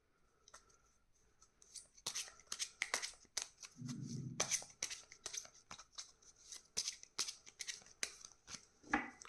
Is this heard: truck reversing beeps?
no